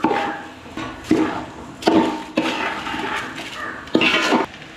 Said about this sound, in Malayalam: ഇനി ഇതിലേക്ക് അരി ഇട്ട് കൊടുക്കാം.